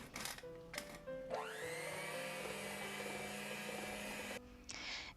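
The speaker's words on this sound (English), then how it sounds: "With your hand or stand mixer, mix the butter and shortening until well combined." Electric hand or stand mixer whirring through butter, shortening and powdered sugar, a steady high motor whine that spins up after a few clicks, runs several seconds, then cuts off.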